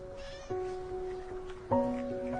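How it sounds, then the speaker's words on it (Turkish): A cat meows twice at close range, with a short meow followed about a second later by a louder one. Both are heard over quiet room background with no talking. "beş kedi var beş"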